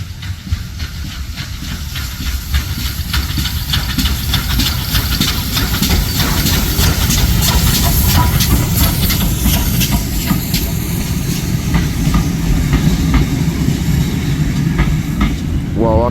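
A Great Western steam locomotive running back to the shed at Didcot Railway Centre passes close and loud, with a steady chuffing roar, rumble and hiss over about sixteen seconds and a brief squeal of wheels near the end.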